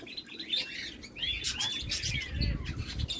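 Busy chirping and tweeting from several small caged birds, including a nightingale or canary, overlapping calls over a low background rumble and rustling.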